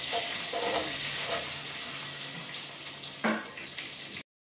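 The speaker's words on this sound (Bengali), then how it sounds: "এবার আমি পেঁয়াজগুলো তুলে দেবো," Onions frying in a little oil in a pan alongside browned garlic for chili chicken, a steady close sizzle with a few brief stirring scrapes and clatters, ending in a short silence.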